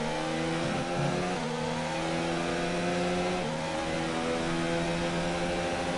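Formula 1 car with a Honda engine in a racing video game at the French circuit, accelerating with a loud, continuous high engine whine whose pitch climbs and steps between gear shifts, with no talk over it.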